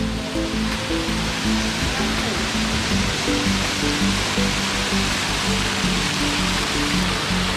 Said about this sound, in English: first waterfall scene.